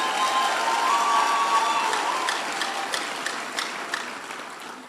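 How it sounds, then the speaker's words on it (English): Crowd of young Nigerians clapping for themselves, a broad continuous wash of applause with some sharper individual claps, fairly loud and gradually easing off. "Clap for yourselves."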